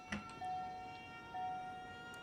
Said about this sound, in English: Oh, that's the bad siren.